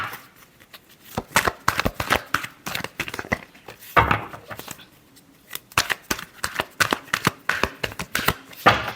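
Tarot cards are shuffled close up in bursts of sharp riffling and flicking, with brief pauses between runs and no speech.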